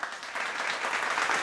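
Audience at a live a cappella concert cheering and applauding, a dense steady wash of clapping and shouts filling the whole short stretch, loud and close.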